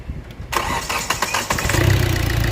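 A Hyundai 1.6-litre diesel engine cranks briefly on the starter, then catches and settles into a steady, loud idle close by, with no talking.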